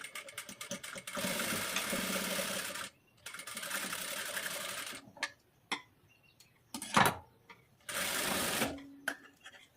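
A sewing machine stitching the back part of a blouse runs in several bursts of rapid whirring, separated by quiet gaps filled with clicks and handling knocks.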